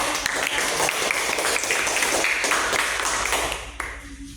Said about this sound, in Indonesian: beri tepuk tangannya dulu untuk kelompok 3